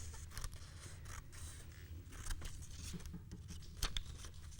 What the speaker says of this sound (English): Just cut along the line.